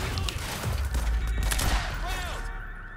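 Gunfire in the video game Quantum Break, dense bursts of shots and booms layered over game effects and a low rumble, loud and continuous across the moment.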